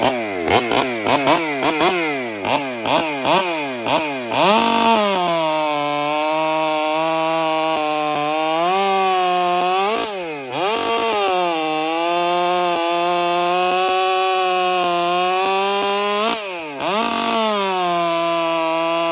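Stihl MS400 chainsaw cutting wood, ported and stock versions with 3/8 or .325 chain: a loud, close two-stroke engine blips through several quick revs, then bogs into long steady cuts with brief dips and recoveries, no talk.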